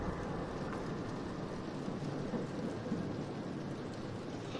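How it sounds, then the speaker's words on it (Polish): Rain and rumbling thunder in the Roblox horror game Doors, a dense continuous downpour hiss with low thunder rumble underneath, steady and enveloping with no talking. "ale to chyba deszcz"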